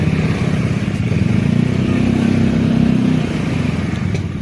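A motorcycle engine runs steadily nearby with a low, rumbling idle that swells slightly in the middle before easing back.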